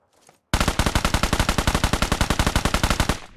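Rapid automatic gunfire from a video game weapon, a loud sustained burst of about thirty evenly spaced shots lasting roughly three seconds after a faint lead-in, with no talking.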